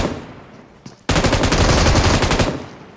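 Rapid automatic gunfire in the battle-royale game BGMI, a loud sustained burst of closely spaced shots lasting over a second after a brief quieter lead-in, then tailing off.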